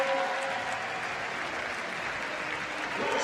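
A crowd applauds swimmers at the World Para Swimming Championships in London, a steady wash of clapping from an indoor pool audience, continuous and moderately loud throughout.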